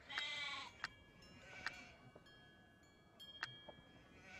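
Sheep bleat in the Nancy Drew game The Haunting of Castle Malloy: a long wavering bleat opens, followed by several shorter bleats spaced a second or two apart over a quiet background.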